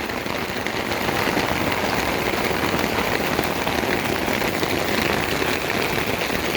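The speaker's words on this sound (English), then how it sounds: "But it's raining." Rain comes down steadily onto an umbrella in Riverside Park in Victoria, a dense, even patter of drops close overhead that continues without pause and without voices.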